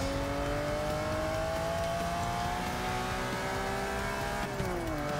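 A 1986 Lamborghini LM002 in Forza 6 accelerates with a loud, continuous engine note whose pitch climbs steadily, then drops briefly as it shifts near the end. The roar is close and alone, with no speech over it.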